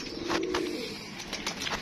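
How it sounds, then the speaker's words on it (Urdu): Sialkoti Green Knight breeder pigeons from a decades-old line coo in low, rolling calls close by, with soft wing and shuffling sounds mixed in. "یہ میرے استادوں کے جی 50-60 سال پرانے کبوتر ہیں۔"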